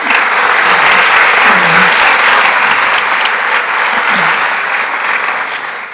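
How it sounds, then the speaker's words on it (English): Conference audience at a real estate event breaking into loud, sustained applause, a dense continuous clatter of many hands that gradually eases toward the end. "Round of applause for them."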